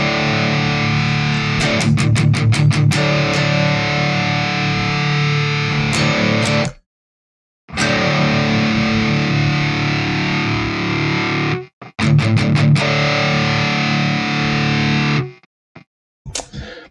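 Heavily distorted electric guitar run through the Deplike mobile app's amp and effects with a noise gate, loud chugging riffs and stabs that cut to abrupt silence between phrases as the gate closes, then return.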